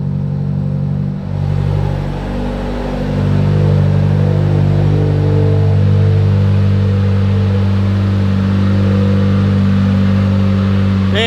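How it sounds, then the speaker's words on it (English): A Mitsubishi Lancer Evo X engine idles steadily, a deep continuous rumble with a low hum, close by and unchanging, with no voices. "I let the car run for about 10 minutes"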